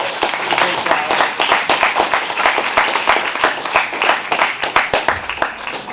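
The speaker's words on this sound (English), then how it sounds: "Just another big round of applause for everybody." A colloquium audience gives a big round of applause, with distinct individual claps in a lively, fairly close texture that holds steady for several seconds.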